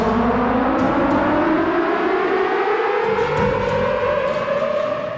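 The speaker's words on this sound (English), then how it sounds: "pushes the button and the sirens go off and the lights start going around" Loud wailing sirens on a TV competition set after someone pushes a button, with long rising and falling tones that overlap continuously throughout and are heard close and alone, without talk.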